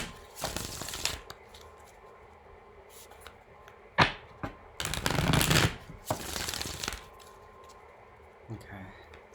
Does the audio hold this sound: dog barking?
no